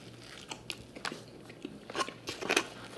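Biting into an Arby's Loaded Italian sandwich with pepperoni and salami: soft, close crunches and chewing, several small bites in quick succession at low volume.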